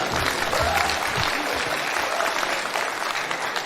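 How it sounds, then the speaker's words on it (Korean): A crowd at an outdoor national singing contest applauds to welcome a former county governor to the stage, steady continuous clapping heard close and full, with faint voices underneath. "여러분 큰 박수 주시기 바랍니다."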